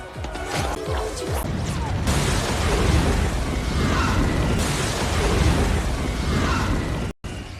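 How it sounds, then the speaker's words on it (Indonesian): Time bomb blowing up after being thrown into a river, a film sound effect: a sharp crack swells into a loud, sustained roar of blast and debris that rumbles on for several seconds before cutting off abruptly. "ternyata ada sebuah bom waktu yang akan meledak dalam beberapa detik"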